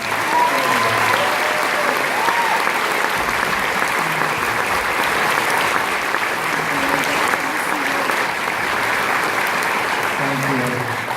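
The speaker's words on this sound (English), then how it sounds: "let's give you a big round of applause" A large audience at a graduation ceremony claps continuously for graduating seniors in dense, sustained applause, filling the room from start to finish without any break.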